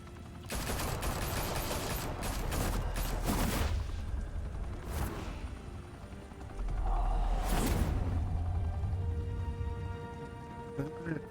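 Gunfire in Batman: The Telltale Series, with dense rapid bursts of shots in two heavy stretches separated by a quieter gap, loud and continuous, with some talk mixed in.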